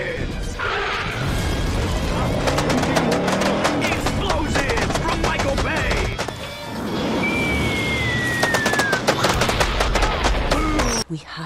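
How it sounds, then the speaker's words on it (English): Gunfire and explosions in a battle scene of the Ghost of Tsushima game, dense rapid shots and crashes layered with booms, continuous and loud, with brief shouting voices mixed in. "Explosions!"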